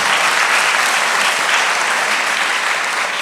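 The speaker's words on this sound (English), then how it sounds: "We can applaud that." A church congregation applauds at a Sunday service, dense steady clapping filling the room at full loudness throughout, with no voices over it.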